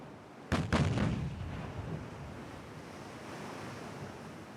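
Naval 6-inch guns firing in the Ultimate Admiral Dreadnoughts video game, heard as two close, heavy booms in quick succession, then a long rumbling tail fading into steady sea and wind noise.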